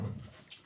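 A dog gives a brief, soft whimper close by, a single short whine that fades quickly.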